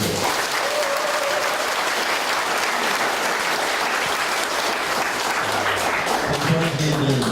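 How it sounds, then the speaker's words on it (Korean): Dense, sustained applause from a large crowd packed into a hot hall at a Suncheon mayoral candidate's campaign rally, steady and loud throughout, with a voice briefly audible over the clapping. "해 주실 분들은 박수 한번 쳐주십시오"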